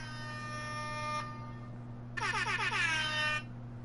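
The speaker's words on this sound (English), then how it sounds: "Let me air horn myself for that awesome joke." A blaring horn tone sustains, then a brighter, warbling air horn blast sounds for about a second over a steady low hum.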